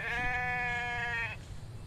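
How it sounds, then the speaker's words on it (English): A single drawn-out sheep bleat in the video game The Infected, clear and close, lasting about a second before cutting off into quiet background. "I hear a sheep. But I do not see a sheep."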